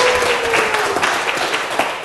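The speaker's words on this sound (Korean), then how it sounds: "우리 박수 한번 격려의 박수를 드릴게요" Encouraging applause from an audience at a health lecture, a steady broadband patter of many hands clapping together, fairly close and continuous for about two seconds with no talk over it.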